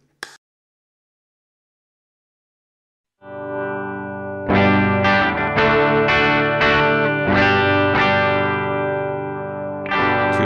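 A Tokai LS140UF electric guitar plays through a Joy American with a Dr.J Planes Walker fuzz pedal switched off, giving a clean tone. Silence gives way to sustained ringing chords that are restruck several times, clear and alone.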